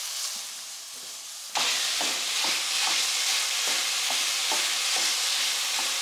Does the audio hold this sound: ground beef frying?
yes